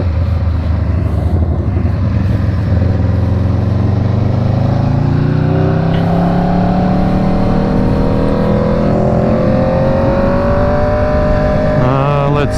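An Aprilia RSV4 motorcycle revs toward the red line in first and then second gear, its engine note sweeping steadily higher over a loud, constant wind-swept rumble.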